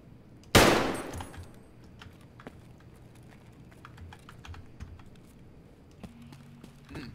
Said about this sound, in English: It's like 70 meters headshot with a pistol.